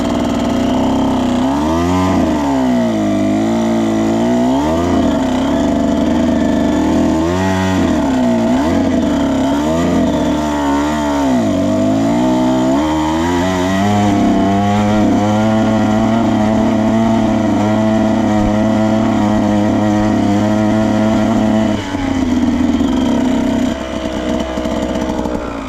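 A Husqvarna TE 125 dirt bike crawling up a washed-out trail, its loud close engine rising and falling in repeated throttle surges, then settling into a sustained high drone before easing off near the end.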